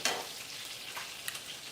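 Italian sausage and meatballs sear in a pot with a steady, close crackling sizzle and a few faint stirring sounds, and no voices.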